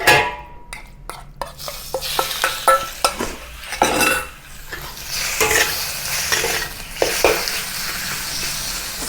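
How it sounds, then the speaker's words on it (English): Chicken meat is pan fried in leftover oil in a wok for Thai basil fried rice. A loud sizzle runs throughout, broken by repeated sharp scrapes and clanks of a metal utensil stirring against the pan. "Now let's pan fry the chicken meat."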